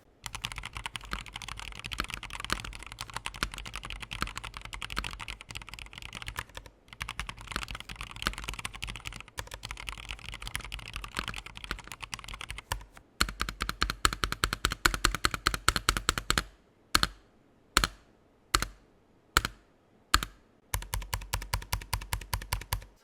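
Rapid, continuous typing on an ASUS ROG Flare II mechanical gaming keyboard with pre-lubed red linear switches and internal sound-dampening foam, close and clear, followed by a few separate heavier keystrokes and then a final burst of quick typing, with no talking.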